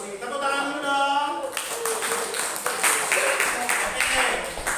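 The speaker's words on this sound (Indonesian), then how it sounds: "Tepuk tangan dulu dong." A group at a counselling training session breaks into scattered hand clapping that starts after a voice and continues steadily at moderate volume.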